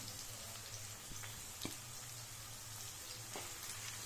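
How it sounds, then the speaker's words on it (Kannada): Cinnamon, cloves, pepper, poppy seeds and roasted gram frying on a low flame in a pan for a country-style chicken sambar, giving a soft, steady sizzle with a few faint clicks and pops, fairly quiet throughout. "ಚಕ್ಕೆ ಲವಂಗ ಮೆಣಸು ಗಸಗಸೆ ಮತ್ತು ಉರಿಗಡಲೆ ಹಾಕ್ಕೊಂಡು ಲೋ ಫ್ಲೇಮಲ್ಲಿ ಇಟ್ಕೊಂಡು ಫ್ರೈ ಮಾಡ್ಕೊಡಿ"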